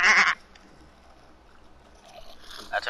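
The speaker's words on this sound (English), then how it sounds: "I turn into a goat." A person's voice put through a voice changer comes out as a goat-like bleat, a loud bleating burst at the start and another at the end with near silence between.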